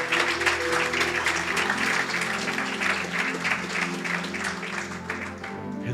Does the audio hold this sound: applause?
yes